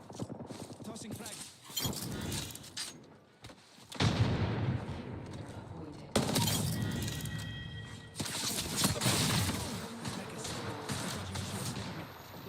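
A frag grenade blast and bursts of gunfire from the video game Apex Legends: several sharp, loud bangs in quick succession amid rattling shots, with voices speaking intermittently.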